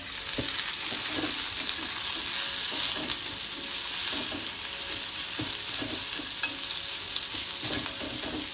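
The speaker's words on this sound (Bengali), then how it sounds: "আমি এখন পেঁয়াজ কুচি লঙ্কা কুচি দিচ্ছি" Chopped onion and green chili frying in a wok for homemade cutlets, a steady close hiss of sizzling oil with repeated scraping stirs throughout, no voices.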